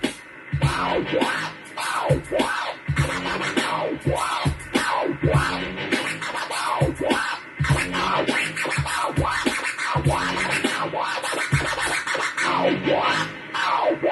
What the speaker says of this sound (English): you can start looking at still sticking to the baby scratch, but doubling the time, so it sounds like this.